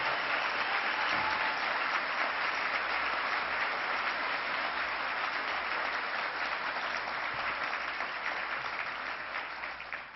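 A convention audience applauding Governor David Paterson: dense, sustained clapping from a large crowd filling the hall for about ten seconds, tapering slightly near the end.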